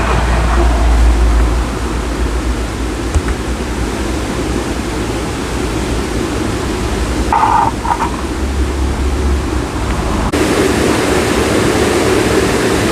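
Water rushes steadily over the wheel of a watermill with a broken bearing, a loud continuous roar close by with a brief clank partway through.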